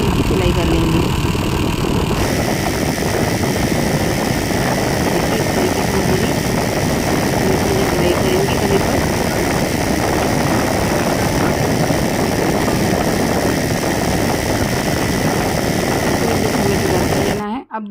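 A sewing machine stitching a finishing seam along a blouse neckline, a loud continuous whirring drone that holds steady for the whole stretch and stops abruptly at the end.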